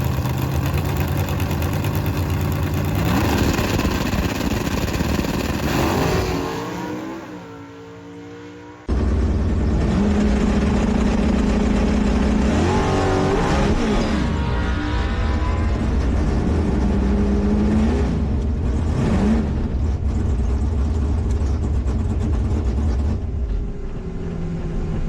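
A 1970 Camaro 402ci big block NHRA Stock Eliminator drag car roars and revs loudly and continuously, dropping out briefly before surging back with strong rumbling power, no talking.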